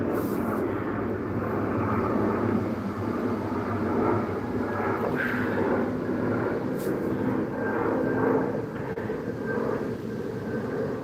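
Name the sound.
airplane flying overhead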